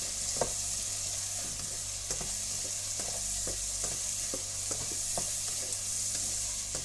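Potato and bitter gourd with garlic and ginger cook in a pan, giving a constant close sizzle under a droning hum, with soft scrapes and taps of a stirring utensil every half second or so.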